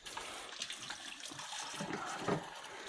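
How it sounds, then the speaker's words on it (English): Hands are rinsed under a running kitchen tap while onigiri is being made, a steady close splash and trickle of water that continues for the whole stretch, with no voices. "let's rinse, wash. Let's keep the hands a little damp."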